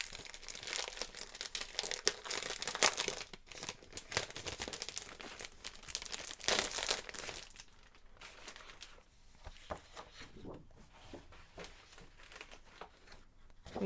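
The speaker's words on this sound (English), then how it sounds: "There's like 24 sheets of double-sided paper here." Sheets of double-sided holiday pattern paper from a scrapbooking collection crinkle and rustle as they are shuffled and flipped, close up with no talking, busier at first and softer toward the end.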